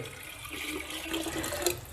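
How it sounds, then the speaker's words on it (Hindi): Roughly a litre of drinking water is poured into an old clay pot, a soft close splashing trickle that runs steadily for a couple of seconds. "तो पुराने बर्तन में आपको लगभग 1 लीटर पानी पीने का डाल देना है।"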